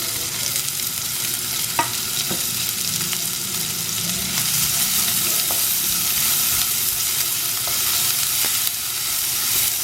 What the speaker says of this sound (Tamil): நான் இதில் வெங்காயமும் கருவேப்பிலையும் போட்டுக்கிறேன்.